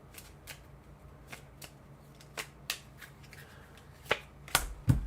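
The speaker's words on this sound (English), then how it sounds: "Oh, I gotta shuffle this up." A deck of playing cards is shuffled during a tabletop card game, giving scattered quiet riffles and sharp snapping flicks that grow louder and denser toward the end, close up over a faint room hush.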